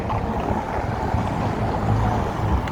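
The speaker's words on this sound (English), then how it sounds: "Very windy over here on this bridge." Steady wind buffeting a microphone on a bridge in downtown Chicago, a continuous low rumble with gusty roar and no pauses.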